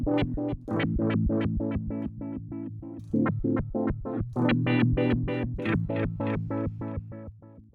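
Synth preset running a filter sequencer pattern through a delay effect, producing a steady stream of evenly pulsed, distorted stabs with shifting brightness and echoing tails that blur the notes together.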